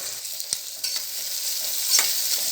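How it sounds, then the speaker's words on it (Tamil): Steady sizzling of mutton frying in a pan for mutton masala, with occasional scrapes and clinks as it's stirred, continuous and close. "வதக்கிடுவோம் நல்லா."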